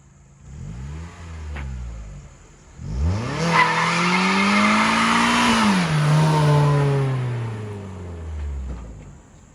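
A Mazda Miata revs hard for a first burnout, the engine note rising and holding high for several seconds with tire squeal and hiss, after a short earlier rev, then dropping away, loud and close with no talking.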